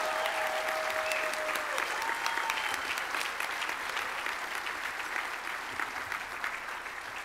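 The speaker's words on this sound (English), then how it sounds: "Let's have one more round of applause now for all of our Silver Circle honorees" A ceremony audience at an Emmy Gold and Silver Circle honors event claps for the honorees, a sustained, even round of applause from a large crowd that carries on for several seconds, slowly tapering near the end.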